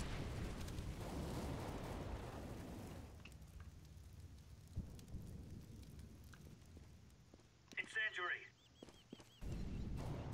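An incendiary grenade's fire burns in a video game as a loud, broad roar of crackling flame, fading midway, broken by a short sharp burst of noise near the end, then surging back strongly.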